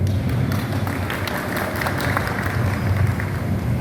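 Audience clapping at a community brotherhood meeting, a steady patter of many hands with sharp individual claps, continuous and fairly close, with a low murmur of voices underneath.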